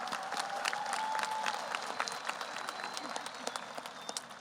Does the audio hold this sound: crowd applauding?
yes